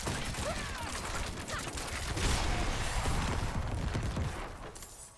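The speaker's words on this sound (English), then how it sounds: "Just endless explosions." Endless overlapping explosions and impacts in a Diablo 4 nightmare dungeon as a Rogue rains arrows, a thick continuous rumble and crackle that swells midway before easing.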